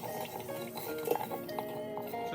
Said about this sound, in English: And we'll use a spoon to mix this up.